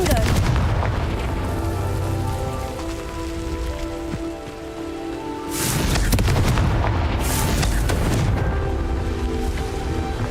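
A Confringo fire spell explodes in Hogwarts Legacy, a loud burst near 5.7 s followed by a second blast around 7 s, rising over a steady bed of game music and ambience.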